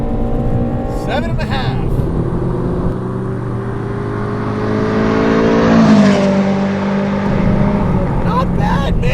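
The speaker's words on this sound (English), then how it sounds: "Listen to it rev though. I'm gonna go all the way to red line, okay?" A modified 1992 Nissan Sentra SE-R engine climbs steadily in pitch as it revs toward redline, peaking loudly near the end before falling back, with someone talking over the rising drone.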